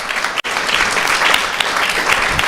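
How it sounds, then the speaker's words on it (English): A room full of people at a Sunday feast gathering clapping for the maker of vegan dessert cakes, loud sustained applause with one brief dip near the start before it continues evenly. "So please give her a big round of applause."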